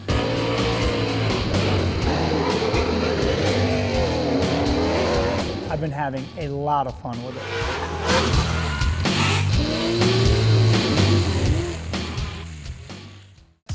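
An HPI 1/10 scale radio-controlled drift car, a replica of a competition drift car, whines and buzzes steadily throughout with brief tire-scrub chirps, while someone talks over it.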